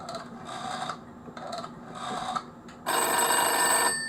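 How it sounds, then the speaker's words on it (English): A telephone bell rings in repeated bursts with short pauses, then one louder, fuller ring near the end; no one speaks. "If I hang this up, that phone will stop ringing."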